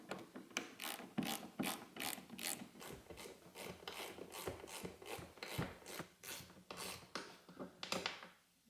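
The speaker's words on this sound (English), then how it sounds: "we're going to take off these bolts all along the side here. These are all a 10 millimeter." A ratchet wrench clicks steadily as it backs out 10 mm bolts along the side of a Toyota 4Runner bumper valance, with close, rapid bursts of pawl clicking that repeat in quick strokes, with no talk over it.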